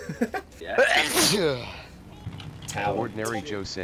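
A single loud, sudden sneeze bursts out near one player's microphone during a GTA V gaming session, surrounded by several voices chatting and laughing.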